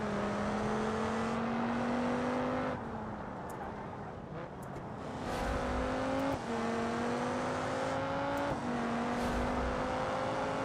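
A game car's engine runs steadily with rising gear-change whines, easing off briefly as it brakes for a turn and then accelerating again, loud and continuous throughout.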